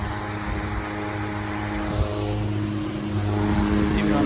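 An antique Westinghouse 16-inch brass blade electric fan runs steadily, giving a continuous whirring hum with layered tonal drone and airy rush, constant in loudness throughout with no speech.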